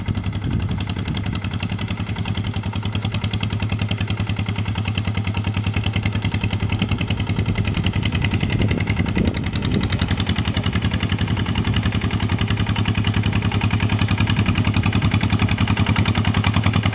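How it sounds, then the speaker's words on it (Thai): Steady mid-pitched engine drone of a tractor plowing a wet rice paddy, running continuously and fairly loud with a low rumble and faint clatter throughout. "แล้วรถไถใครไถน้ำอ่อนเนี่ย"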